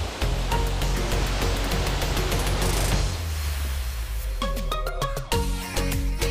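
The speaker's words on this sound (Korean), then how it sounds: "여기는 쌍폭포입니다" Twin waterfall in Mureung Valley, a broad steady rush of falling water heard alongside footsteps and clattering on a rocky trail, moderately loud throughout.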